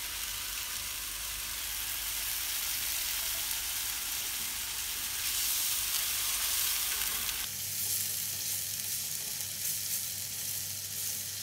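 Spice paste with shrimp paste (terasi) and a splash of water cooking in a pan for sambal urap: a steady, close sizzling and bubbling that shifts in tone partway through, with no voices.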